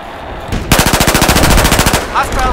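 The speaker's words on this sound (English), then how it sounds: "I have a hostile machine gunner east of your current position." Machine gun fire in Battlefield 4: a loud, close burst of rapid, evenly spaced shots lasting over a second, then tailing off.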